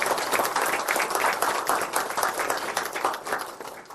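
A theatre crowd gives sustained applause for Bolshoi prima ballerina Ksenia Ryabinkina at a Raj Kapoor birth anniversary tribute, a dense even roar of clapping that eases slightly near the end.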